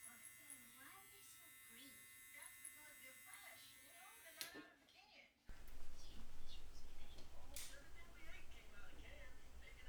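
An electric hair clipper cuts hair during a mid taper fade with a mullet. Someone talks over faint buzzing at first, then the clipper roars loud and close for the last few seconds.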